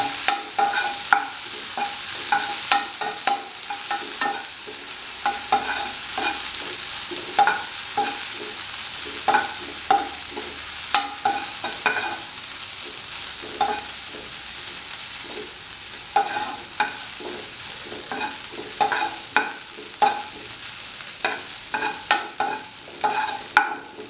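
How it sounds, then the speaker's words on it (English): Raisins sautéing in a pan for an arrowroot sweet pudding, a steady soft sizzle broken by frequent sharp scrapes and clicks of a spoon stirring against the metal, close and moderately loud with no voices. "Saute for 1 minute until the dry grapes are well done."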